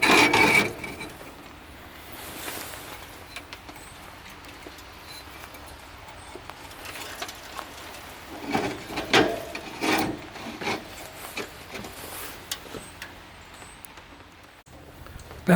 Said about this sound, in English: Let's flip them over for cleaning.